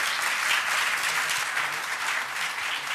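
Steady applause from a crowd, a dense wash of clapping that holds at an even level for the whole stretch.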